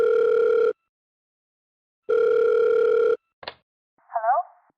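A telephone line sounds for a phone-in call: two long, loud steady ring tones separated by a gap, then a short click and a brief warbling electronic chirp, with no voices.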